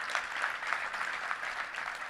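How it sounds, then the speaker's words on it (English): Audience applause fills a touchdown club luncheon in Little Rock, steady and dense clapping from a large crowd at moderate distance, holding evenly throughout without pause. "Let's give it up for Jeff, everybody."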